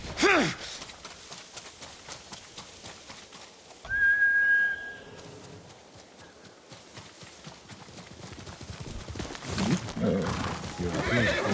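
Horse in the video game Ghost of Tsushima: a sharp, loud whinny at the start, then steady clip-clop hooves and breathy snorts, with a brief whistle midway and a louder neigh near the end.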